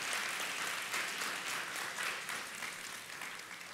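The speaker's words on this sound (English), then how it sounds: "please give a big clap to our two guest speakers" A seminar audience applauds two guest speakers, with a steady dense wash of many hands clapping at moderate distance that fades slightly toward the end.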